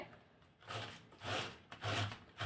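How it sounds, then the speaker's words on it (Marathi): Raw mango scraped against a grater in a few rhythmic rasping strokes, close and fairly quiet, with no talk. "आपल्याला कैरी किसून घ्यायची आहे"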